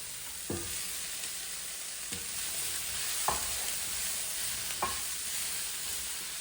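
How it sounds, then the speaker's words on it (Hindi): Okra and onion frying in a pan, a continuous soft sizzle broken by four spaced scrapes of a spoon stirring, with no talking. "मैं भिंडी में अनियन को ज़्यादा क्रैक नहीं करती, भिंडी के साथ ही कुक होने देती हूँ।"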